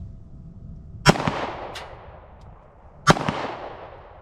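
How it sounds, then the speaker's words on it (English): Two sharp Sig P365 XL pistol shots crack out at an outdoor range about two seconds apart, each loud and close with a brief echoing tail, and no talking in between. "Let's shoot it a little bit more."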